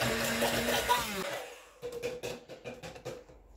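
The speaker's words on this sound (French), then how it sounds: "Donc je vais passer pour les mixer." A small electric grinder blends sugar for brioche dough, whirring loud and steady for over a second before it cuts off. Softer clattering and handling noises follow, with a voice faintly in the background.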